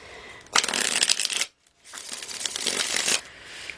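Tarot cards are shuffled briskly in two close, crisp riffling bursts separated by a short silence, with no talking.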